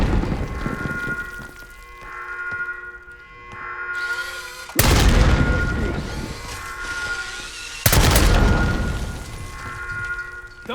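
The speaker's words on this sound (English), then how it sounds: "Grenade, move!" Two heavy grenade blasts in Call of Duty: Black Ops 6 gameplay, each a sudden loud boom that rolls into a long rumbling decay, set over steady ambient battle noise and low game tones.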